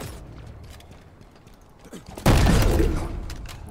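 A sudden loud burst of video game gunfire in Vermintide or Halo Infinite, following quieter background clatter and mechanical noises.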